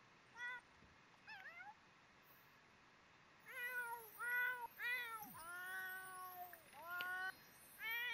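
A cat in The Sims 4 meows repeatedly in a string of short, rising and falling calls, some drawn out, with quiet pauses between them and no voices over them.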